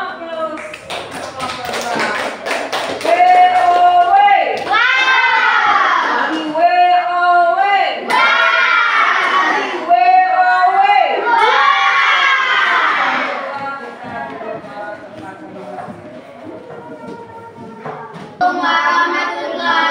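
A class of students in a classroom claps together, a rapid patter of many hands mixed with children's shouts and cheering voices, loud and close, easing off then rising again near the end.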